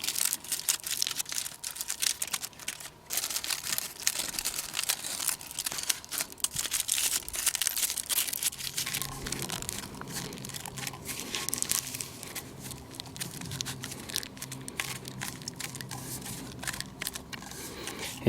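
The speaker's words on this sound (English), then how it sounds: "So I'm going to have to fight with it a little bit and try to manipulate this foil" Aluminium foil crinkles and crumples in close, continuous handling as it is pressed and shaped around a bottle, a steady papery rustle with brief crackling bursts throughout.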